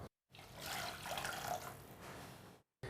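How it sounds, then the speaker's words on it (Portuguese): Water for boiling risotto stock pours steadily into a pot for about two seconds, a close, bright splashing rush that starts and stops abruptly. "Agora eu vou ferver a água e colocar o caldo nela."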